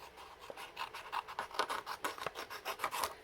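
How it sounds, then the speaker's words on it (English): Rasping, scratchy strokes of a trimmer cutting a piece of cardstock for a card-making project, a quiet, fairly regular series of short scrapes close up, no talk. "I'm going to trim this piece of card down"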